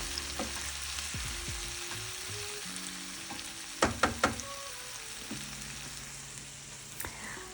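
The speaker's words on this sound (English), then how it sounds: "But I just gently, as I say, carry on, just moving them around the pan" Homemade meatballs fry in a pan as they are moved around, a continuous soft sizzle with a quick cluster of utensil knocks midway and occasional lighter scrapes.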